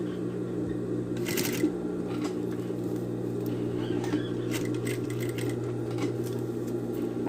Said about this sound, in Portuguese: Costurando aqui a alça.